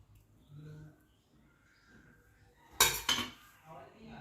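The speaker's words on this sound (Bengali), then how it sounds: "এবার আমি এই ডিমগুলি কেটে নেব" Knife cutting boiled eggs in half on a plate, giving a pair of sharp clinks and taps near the end, with quiet talk throughout.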